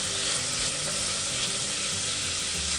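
Onion and chile strips (rajas) frying in a pot over medium heat, a continuous close sizzle and crackle with faint stirring, no voices.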